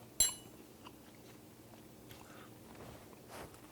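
Someone chews a mouthful of basmati rice with raisins and cashews, soft close crunching and biting sounds after a sharp click at the start, quiet and without talk.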